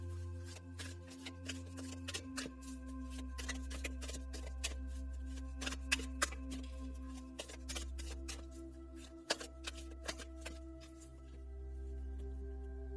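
Cards shuffled for a pick-a-card reading, a steady run of soft riffling flicks and taps over a low constant hum, close and fairly quiet with no voices.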